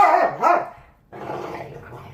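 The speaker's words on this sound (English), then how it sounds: "That's Perdita getting mad at Steve, the old dog getting mad at the young one." An old dog barks and growls at a younger dog, close and loud: two quick bark bursts, then a short pause and a lower, sustained growling rumble.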